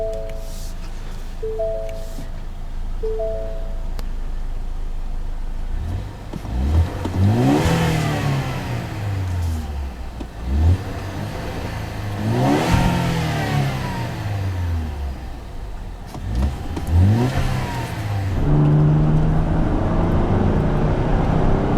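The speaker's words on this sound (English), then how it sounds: "This is a 2014 Ford Fusion SE EcoBoost with a 2-liter turbocharged engine." A 2014 Ford Fusion SE with a turbocharged 2.0-liter EcoBoost engine revs up three times in quick succession, each rise climbing and falling back toward idle, loud and close, over a steady low idle hum.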